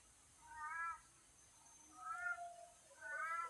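A cat meows three times in quiet surroundings at night, each call clear and drawn out, spaced about a second apart with near-silence in between.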